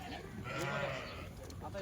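Kathiawari goats bleat in a shed amid a blur of overlapping calls and background chatter, the voices sitting mixed with the animals at moderate loudness.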